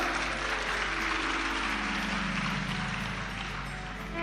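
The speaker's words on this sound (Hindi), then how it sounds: "ताली बजाने से कुछ नहीं होगा" An audience claps together in a dense, continuous burst of applause, loud and close, sustained for several seconds at a religious discourse.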